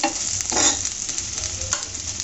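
Chopped onions sizzling in hot oil in a pan for a beef kala bhuna, with a stirring scrape and steady crackle close up, no talk.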